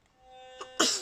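A single sneeze: a short indrawn breath followed by a sharp, loud burst of air, heard close over a faint steady electrical hum.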